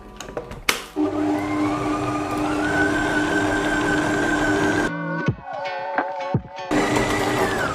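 Stand mixer motor whirring at higher speed while kneading salt bread dough, a steady high-pitched drone that cuts out briefly, with a few knocks, then starts up again.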